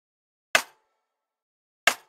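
Two sharp layered clap hits with a rim shot blended in, programmed in an FL Studio beat, sounding alone with a long silent gap between them and a short bright decay on each.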